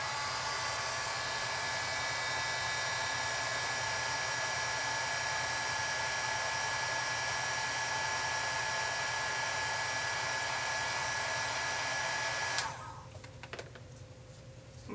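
A hair dryer blows steadily while drying a paper craft flower, a loud continuous whirring hiss that cuts off abruptly near the end, leaving quiet room noise.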